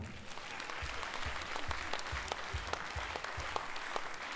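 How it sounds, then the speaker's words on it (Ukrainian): A charity concert audience claps in a soft, rhythmic unison, with regular low thumps under a steady patter of hands, fairly faint and distant throughout. "Давайте разом їх привітаємо нашими оплесками."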